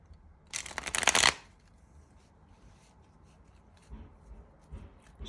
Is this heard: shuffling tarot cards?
yes